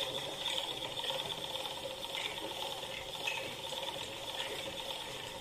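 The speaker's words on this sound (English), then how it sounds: "Then wind the bobbin as much as you need." A sewing machine (SM-MC984) winds its bobbin with a steady, even mechanical whir and fine ratcheting rattle, holding a constant level throughout with no voices.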